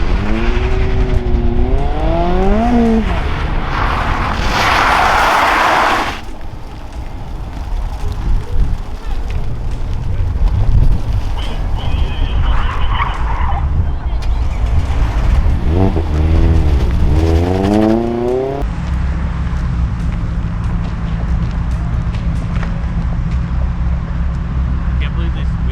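A Toyota Prius on an autocross course, engine whining and revving through gear changes with tire noise, loud and close, with people talking over the driving.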